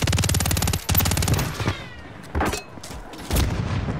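Rapid bursts of suppressed automatic fire from a WSP Swarm in a video game, a long dense stream of shots followed by shorter separate bursts, loud and close, with no voices.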